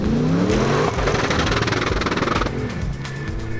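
A twin-turbo 1UZ V8 with 15-pound boost, fitted to a heavily modified Queensland vehicle, revs loudly and close by, its engine note rising and falling in one continuous pull with a harsh, buzzy edge that eases slightly toward the end.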